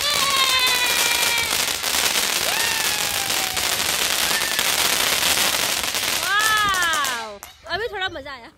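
Diwali firecrackers go off during a celebration in the UK: dense, loud crackling and popping with whistling rising and falling tones, then scattered bursts as it fades, with children's voices mixed in.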